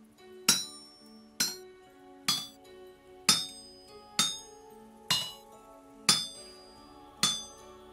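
Metal hammer blows ring out while a chisel is crafted on an anvil in the game Vintage Story: eight sharp, clinking strikes at a steady, roughly one-per-second pace, each with a bright metallic ring that fades, no talking.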